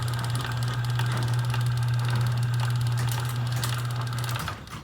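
A modified Chamberlain PD752D garage door opener with greased gears runs steadily, a loud sustained motor hum with a rattling chain-drive buzz that holds for several seconds and then stops abruptly at the end.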